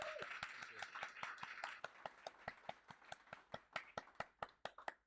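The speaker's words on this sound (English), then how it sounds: "Give that guy a round of applause for me, please." Audience at an entrepreneurial summit applauding a moderator, starting as a blended round of clapping that thins to a few individual hands clapping in a steady rhythm near the end, with some talk underneath.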